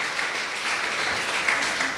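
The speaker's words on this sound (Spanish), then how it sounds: "Dele un fuerte aplauso al Señor." A church congregation applauds during a Spanish-language sermon, with a brief, steady patter of clapping that stays fairly even in loudness throughout.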